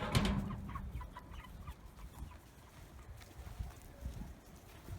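Chickens clucking in short, scattered bursts close by, with a soft rustle of background noise between calls.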